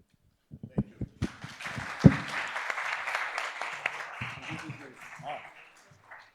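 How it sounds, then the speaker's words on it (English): An audience applauds at a conference lecture on multilateralism, starting with a few scattered claps that swell into sustained applause and then fade, with brief voices near the close. "ask for an applause"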